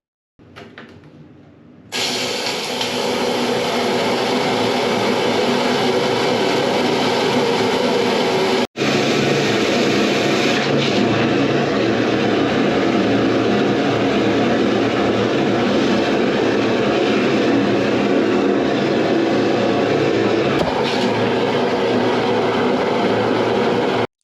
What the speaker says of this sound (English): we're going to take the jet out and stick it in the next pipe